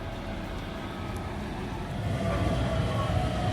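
A Berlin underground metro train carries riders through the city, producing a continuous low rumble and rolling noise that swells slightly louder partway through, with no clear voices.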